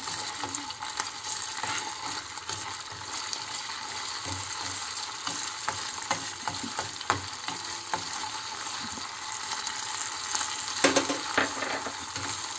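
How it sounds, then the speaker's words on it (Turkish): Tomato paste frying in a pan as mint is added, a loud continuous sizzle and crackle with occasional clinks of a spoon or utensil, close by and with no talk. "Salçamız biraz kavruldu içinde. Şimdi nanesini de ekleyeceğim."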